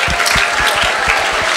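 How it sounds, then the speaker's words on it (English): Brief burst of loud, dense audience applause at a school STEM conference thanking the speakers, close and continuous for a moment. "A huge round of applause."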